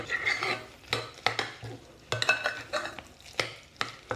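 A spoon mixes a thick, stiff protein zucchini waffle batter in a bowl, giving repeated short scraping and tapping strokes, close and fairly quiet, with no talking.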